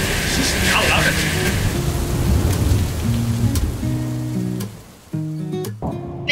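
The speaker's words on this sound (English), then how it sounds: "when the weather's going absolutely nuts, rain coming down" Heavy storm rain pours outside in Western Australia, a dense continuous hiss with distant rumbles. Music fades in toward the end as the downpour recedes.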